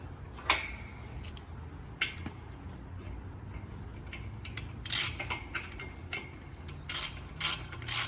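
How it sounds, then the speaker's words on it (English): A hand ratchet tightens a mechanical tee onto a pipe in a fabrication shop, making separated bursts of clicking pawl ticks, short runs that grow denser and faster toward the end, close and moderately loud with no talking. "So I personally just use a ratchet."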